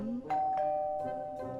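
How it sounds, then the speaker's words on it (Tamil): A hotel room's calling bell rings with a clear two-tone ding-dong, fairly close and loud, its tones lingering before a softer repeat fades out. "அப்பதான் அந்த காலிங் பெல் அடிச்சது."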